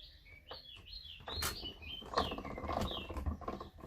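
Birds chirping outside, several bright twittering calls and short descending whistles scattered over a few seconds, moderately close, over a faint background of soft patter and shuffling noise.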